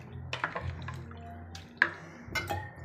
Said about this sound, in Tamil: இப்போ வந்து கொஞ்சமாக தண்ணி ஊற்றினா போதும்